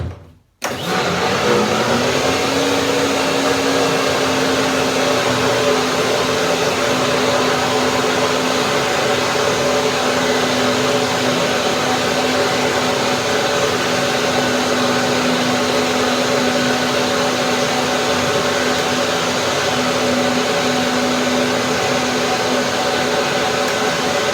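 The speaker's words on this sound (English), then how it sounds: "One more blender dance." A blender whirs loudly and steadily after a brief start while mixing a lime apricot pie filling, holding one smooth, unchanging motor drone throughout.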